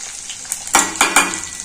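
Curry leaves and asafoetida sizzling hard in hot oil for a South Indian tempering, several sharp crackling bursts spitting in quick succession, close and loud over a steady hiss.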